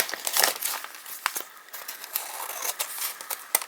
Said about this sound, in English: I'm just going to use my scissors to do that.